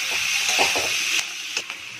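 Onion, corn and green chilli fry in a pan with a steady, bright sizzle and hiss, broken by a few soft scrapes and clicks of stirring up close. No voices are heard.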